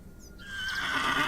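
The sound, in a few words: horse neighing in The Excavation of Hob's Barrow video game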